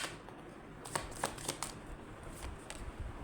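Tarot cards are shuffled and drawn in several quick, crisp riffling flicks close by, between quiet pauses, with no talking.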